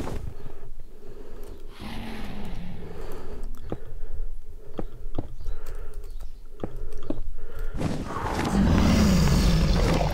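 A Minecraft character eats food in a string of quick crunchy chomps over steady game background noise, ending in a louder roaring burst.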